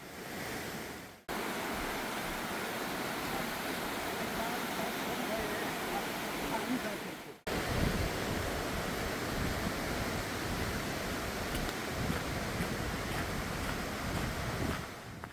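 Steady broadband rush of a mountain valley stream flowing alongside a flat trekking trail near Wonju, constant and full throughout, with two brief cuts in the recording.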